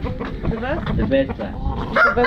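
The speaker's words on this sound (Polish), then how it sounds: "Tu w tych koszach się były kurczaki, które albo są przed walką, albo po walce, ale generalnie służą do walk." Fighting roosters kept in baskets cluck and squawk at close range, short bursts of agitated calls overlapping with people talking nearby.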